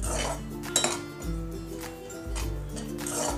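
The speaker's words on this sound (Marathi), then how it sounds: "हा आता आपण थोडासा लालसर होईपर्यंत परतून घ्यायचे।" Grated coconut roasting in a pan (kadhai) for a sweet karanji filling, with a utensil scraping and clinking against the metal pan in steady stirring strokes, close and moderately loud, with no talking.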